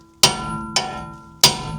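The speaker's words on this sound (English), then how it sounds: "We're gonna hammer this one." Three sharp metallic hammer strikes on a lug stud of a wrecked Honda Fit ring out close by, each with a short ringing decay, the last one loudest.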